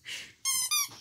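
A squeaky dog toy gives two loud, close, bright squeaks in quick succession, with breathy panting before them.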